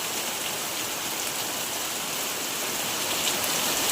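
Steady, dense unseasonal rain pouring down, a constant hiss of drops on surfaces with no voices.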